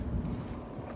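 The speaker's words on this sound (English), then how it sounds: "It's so windy out here." Strong wind buffets the microphone outdoors, a steady low rumble with gusty roar and no voices.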